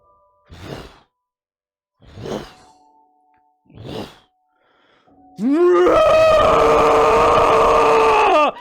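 A loud, piercing, ear-splitting scream rises sharply and holds steady for about three seconds, following three short breathy sighs or gasps spaced through the quiet before it.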